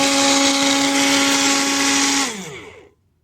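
A MIAOKE portable six-blade juicer cup blender whirs loudly and close at a steady high-pitched buzz, then spins down and stops.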